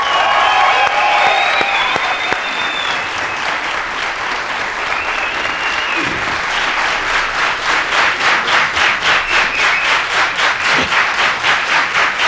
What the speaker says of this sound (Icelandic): Gjörðu nú gott klapp!